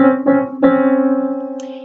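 A half step played on piano, two neighbouring notes struck one after the other, each ringing and sustaining close and clear, with a faint high chirp near the end.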